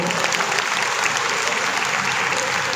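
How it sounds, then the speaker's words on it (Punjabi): Loud, continuous applause from an audience at a gathering celebrating women, a dense steady clapping that fills the whole stretch without pause. "ਜ਼ੋਰਦਾਰ ਤਾੜੀਆਂ ਇੱਕ ਨਾਰੀ ਸ਼ਕਤੀ ਦੇ ਉੱਤੇ ਲਾਓ"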